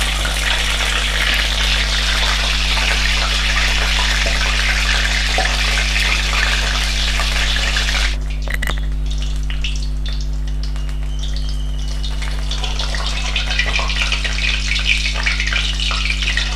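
Pineapple jalebi frying in hot oil, a steady loud sizzle and bubbling that fills the clip, briefly quieting around the middle before resuming, with no voices.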